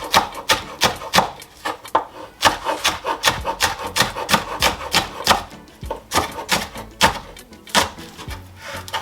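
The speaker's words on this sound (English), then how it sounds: "you want to just cut until you get to the root of the vegetable" Knife chopping scallions on a cutting board in a home kitchen, a steady series of quick, close taps and scrapes repeating in an even rhythm with no talk.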